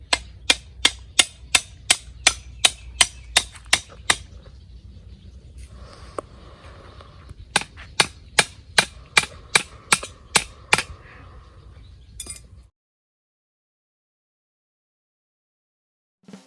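Sharp, evenly spaced hammer blows driving wooden stakes into the ground, a steady run of knocks, a short pause, then another series before it stops.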